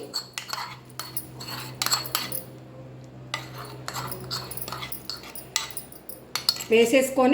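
A utensil scrapes and clinks against a metal pot in repeated stirring strokes through spicy lentil dal (karapu pappu), followed by a short spoken phrase at the end.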